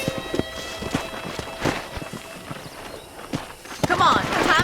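Horse hooves clip-clop at a walking pace in the Red Dead Redemption western game, with regular sharp footfalls under a background score and voices talking.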